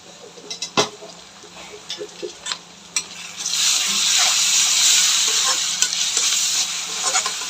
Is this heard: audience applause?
no